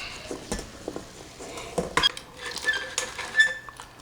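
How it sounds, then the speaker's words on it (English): Clatter and clinks of a pot and utensils in a kitchen, with soft bumps and scrapes as potatoes go into a pot of boiling water, no talking. "Water's boiling. We can add our potatoes."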